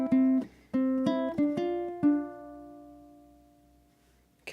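Ukulele strumming and plucking bar 6 of a pop song, a handful of sharp attacks in a syncopated rhythm, then a final chord ringing out and slowly fading, close and alone.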